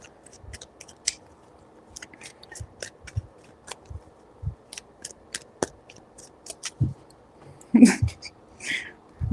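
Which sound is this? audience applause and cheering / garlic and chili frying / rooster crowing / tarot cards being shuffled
tarot cards being shuffled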